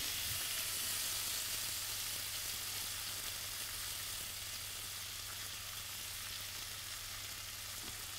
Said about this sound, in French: faire saisir notre garniture aromatique